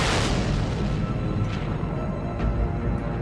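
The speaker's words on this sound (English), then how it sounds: "A horrendous explosion in the sky." An asteroid fireball explodes in the sky, heard as a loud, sustained rumbling roar with a sharp opening burst and deep low-end boom that rolls on without pause.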